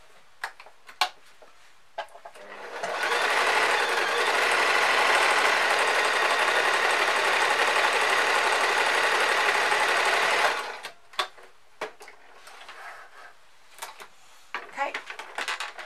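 A domestic sewing machine stitches fabric for a simple top in one steady, loud whirring run of about eight seconds, framed by quiet handling clicks and fabric rustle before and after.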